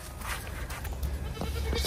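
Goats bleating on a farm, a few short nasal calls rising over a low rumble of background noise, fairly close and without talk.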